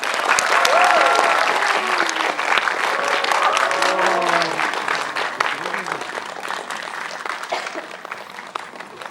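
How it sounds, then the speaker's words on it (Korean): Loud, continuous audience applause and crowd noise greet film actors and a webtoon author arriving on stage at a movie promotion event, with a presenter's voice and other voices over it, fading slightly near the end. "박수 부탁드립니다."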